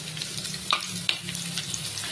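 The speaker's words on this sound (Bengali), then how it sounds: "এটা হালকা করে লাল লাল করে ভেজে নেব।" Chopped onions fry in oil with bay leaf and whole garam masala, producing a close, steady sizzle with a couple of sharp stirring clinks.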